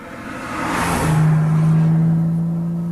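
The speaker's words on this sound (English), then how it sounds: "Here's another Porsche." A Porsche Turbo sweeps past on a mountain road, its engine rising from a whoosh to a loud, steady droning note close by.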